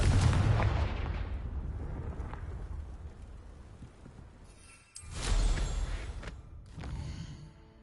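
A Confringo blasting spell from a video game goes off as a heavy booming explosion with a long rumbling decay, followed by a second loud blast and another burst of rumble.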